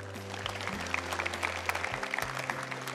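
Audience clapping in a crowded public venue, a steady round of applause over a low hum, with a loud background tone running underneath.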